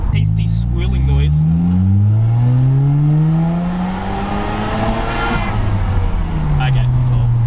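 A Mazda FC RX7 with a turbo boost leak gives a rough revving engine note with rising and falling pitch sweeps and a swirling whoosh, loud and close, with voices talking over it.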